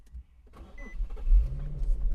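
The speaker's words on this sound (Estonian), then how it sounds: "paneme autot käima" A car running on LPG is started: the starter cranks briefly and the engine catches, settling into a low close idle rumble over about two seconds, with no talking.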